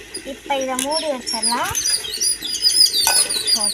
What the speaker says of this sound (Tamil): குருவிலாம் செம்மையா ஜாலியாக கத்திட்டு இருக்கு மரத்தில்